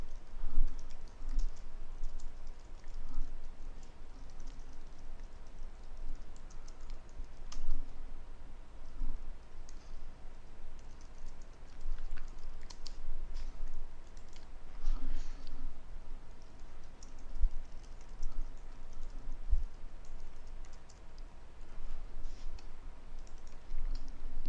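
Code for an Android Bluetooth app being typed on a computer keyboard: a steady, close run of keystroke clicks with brief pauses between bursts, continuing for the whole stretch with no talking.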